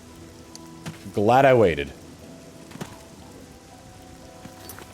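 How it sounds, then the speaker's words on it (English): Steady rain falls in a swampy mire in The Elder Scrolls IV: Oblivion, a soft continuous hiss under a brief spoken line. "And it's raining."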